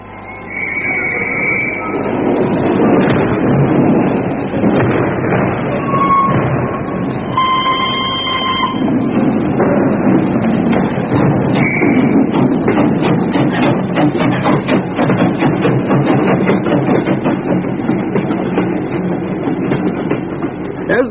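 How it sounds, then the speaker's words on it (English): Steam-era train pulling out of a London station, a steady rumbling chug with rhythmic clatter and brief whistle tones sounding loud and close throughout. "As the train sped out of Paddington"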